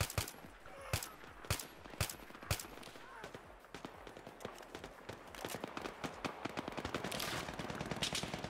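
Gunfire in Battlefield 3 running Reality Mod, with repeated sharp shots and rapid bursts cracking throughout, some close and loud, others more distant, alongside a faint voice.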